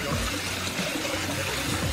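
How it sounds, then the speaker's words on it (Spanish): Tap water runs steadily through a colander, rinsing sand from Irish moss seaweed, a close splashing stream with a low gurgle underneath and brief faint voice sounds. "La idea es lavarlo con agua corriente para sacarle la arena"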